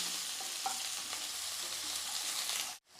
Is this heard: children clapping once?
no